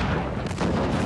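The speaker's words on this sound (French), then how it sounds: "Après l'explosion des mines" Mines exploding in the 2012 Hunger Games film make a dense, rumbling blast, one heavy sustained boom that fills the whole moment with low roar and crackle.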